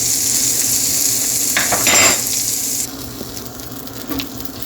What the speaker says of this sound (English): just go ahead and stir that in for like a minute or 2. Let those green onions simmer with your sesame seeds